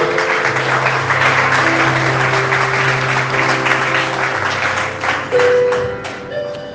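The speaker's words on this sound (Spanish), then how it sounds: "Denles aplauso al Señor." A church congregation at a Sunday service gives loud, sustained applause that fills the room, with a steady wash of clapping that swells once more before fading, while faint held tones sound underneath.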